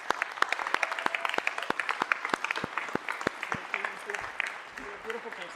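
A city council meeting audience applauds with distinct individual claps, starting dense and loud, then thinning and fading toward the end as a voice begins talking.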